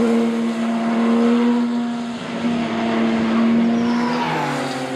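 Race cars run on a wet track at Magny-Cours, a loud sustained engine drone with shifting pitch as cars pass and accelerate out of a hairpin, heard alone without voices.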